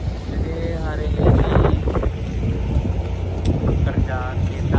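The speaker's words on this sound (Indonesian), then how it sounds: "Ini karena mau angin ya guys, anginnya gede" Strong wind buffets the microphone near moored boats, a loud, continuous roaring rumble with gusty swells, under intermittent speech.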